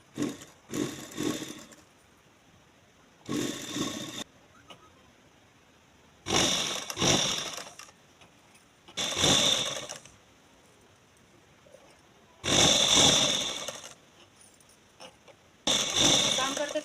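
Sewing machine stitching a children's garment in a boutique, running in short bursts of steady whirring separated by pauses, with a voice talking in between.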